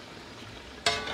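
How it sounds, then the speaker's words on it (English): A spoon or ladle stirs Jamaican oxtail in a pot, a quiet low bubbling that breaks into a louder scraping, sizzling burst near the end. "Gonna mix this around."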